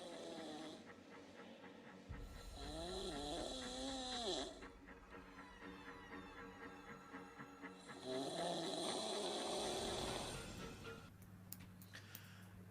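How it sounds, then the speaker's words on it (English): A person snores loudly in long, rasping drawn-out breaths, two big snores separated by quieter breathing, close and harsh with a throaty rattle. "Oh my God, I've never heard snoring like that"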